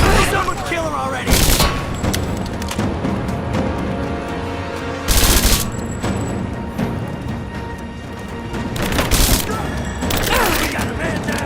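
Gunfire rings out in a Rise of the Tomb Raider firefight, with heavy bursts of shots and sharp booms breaking through a constant loud battle din while soldiers shout over it.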